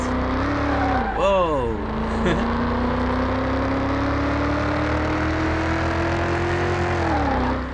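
Restored NextGen race car with a superspeedway body running a short track, its engine holding a loud sustained drone with a quick rev dip early, while a voice briefly exclaims over it.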